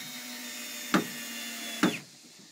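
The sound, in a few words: drill driving hinges into treehouse door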